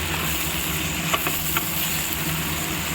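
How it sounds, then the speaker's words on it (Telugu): Coriander powder and chili powder frying in a pan for a Chittoor-style curry: a steady, soft sizzle with faint clicks of stirring and a low hum underneath, no voices. "ధనియాల పొడి రెండు స్పూన్లు కారము రెండు స్పూన్లు ఇది కూడా బాగా వేయించుకోవాలి"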